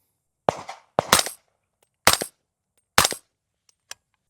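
Four suppressed shots from a Daniel Defense PDW in 300 Blackout, sharp and close, spaced irregularly about a second apart with short decays, then a faint click or two in otherwise quiet surroundings.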